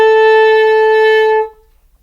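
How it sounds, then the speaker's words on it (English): An alto saxophone mouthpiece and reed played on their own give one loud, bright, buzzy sustained tone lasting about a second and a half before stopping abruptly. "The saxophone uses a mouthpiece and reed to make sound,"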